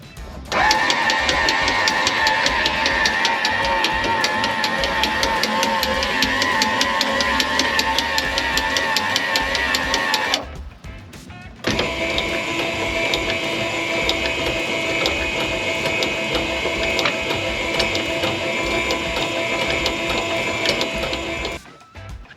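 An RV's landing gear is lowered, giving a loud, steady mechanical whir with ratcheting gear noise. It runs continuously for about ten seconds, pauses briefly, then resumes for another long stretch.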